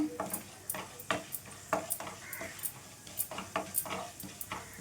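Coriander seeds are stirred and dry-roasted in a pan, a ladle scraping and clinking against metal in a quick, uneven rhythm over a faint hiss, close up and without talk.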